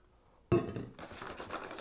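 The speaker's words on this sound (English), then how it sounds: "I'm going to put them back into the pan." Smoked food tipped back into a metal pan on a Big Green Egg cook, giving a sudden clattering clink followed by softer scraping and rattling as the pieces settle, close and fairly quiet.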